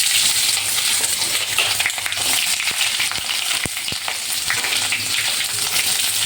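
Sliced onions fry in hot oil with whole spices, a dense, constant crackling sizzle close up, with a few sharp clinks and pops scattered through it and no talking.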